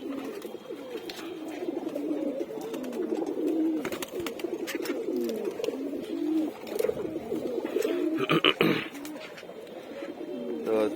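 Domestic pigeons in a loft coo repeatedly while being given water, overlapping throaty calls rising and falling, with some clatter and a brief louder rustle near the end.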